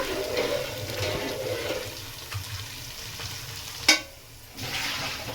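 Water bubbles and sloshes in a pot of biryani water as a spoon stirs it, with a sharp clink against the side near the end, then a soft steady simmer.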